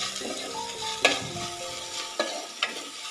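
Half-fried onions sizzling in a pan for bendekai gojju, with a steady soft hiss broken by three sharp clinks of a spoon stirring against the metal.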